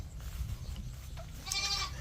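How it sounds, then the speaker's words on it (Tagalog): Goats bleating on a rural farm in the Philippines, a wavering cry rising near the end over low rumbling background noise. "ilalabas ko muna yung mga kambing"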